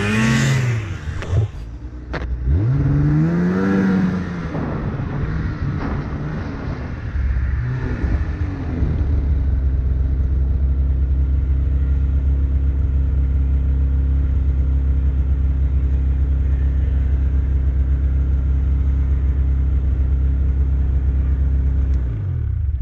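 Snowmobile engine revving under throttle in the backcountry, with rising and falling revs early on before it settles into a loud, steady close-up drone that cuts off at the end.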